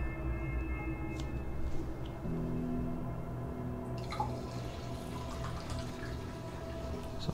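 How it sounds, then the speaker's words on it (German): Water is poured in the video game Alan Wake's American Nightmare, heard as a steady trickling fill over low game ambience for several seconds, moderately loud, with no speech. "So, ein bisschen Wasser einschenken hier."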